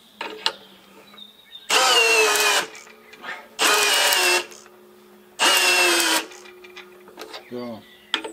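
A FLEX cordless drill driver drives a 12x20 screw into wood in three bursts of loud whirring, each about a second long, with quiet pauses and brief speech between them.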